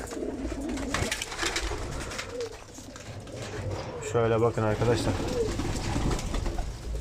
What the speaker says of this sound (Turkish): Hepsi uçan kuş. Manisa'da uçan kuş hepsi.